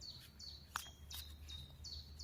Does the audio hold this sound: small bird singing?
yes